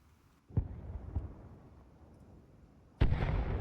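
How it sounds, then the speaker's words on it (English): Mortar shells land in the video game Arma Reforger, several dull, distant booming impacts spaced apart, with a louder blast and rumbling tail near the end. "the shells are definitely hitting"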